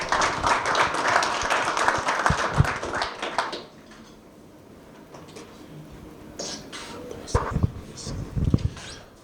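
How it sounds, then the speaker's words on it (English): An audience at an agricultural financiers' breakfast claps after a presentation, a dense burst of applause that fades out, followed by quieter room sounds and a few scattered claps with some talk. "Shall we give him another round of applause?"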